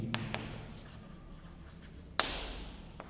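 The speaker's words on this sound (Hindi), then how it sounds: "अप्लाइड फॉर्मूला हम यहां लिखेंगे" Pen writing a maths formula by hand on paper, soft quiet scratching strokes with a few sharp taps, close and faint in a quiet room.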